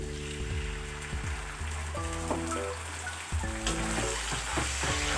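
Small tomatoes frying in a pan for a chicken 65 curry, a continuous bright sizzle with soft spattering, steady and close, with faint low tones underneath and no speech.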